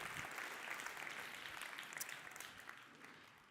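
Audience applause at a sales training event, a dense wash of many hands clapping steadily and fairly distant, slowly thinning toward the end with no talk over it.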